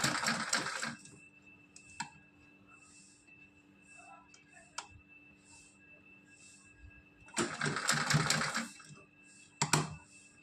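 A sewing machine stitches a small Kanha doll dress in two short loud bursts at the start and near the end, with a quiet hum, faint clicks and a thud in between.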